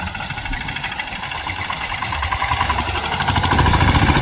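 A power tiller's engine chugs in third gear with a loud, rhythmic knocking that builds steadily louder, a mechanical clatter riding on top of it.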